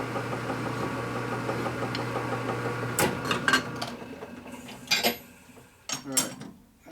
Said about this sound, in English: I'm going to chamfer the edge just a little bit here